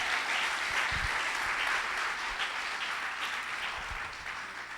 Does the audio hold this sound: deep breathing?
no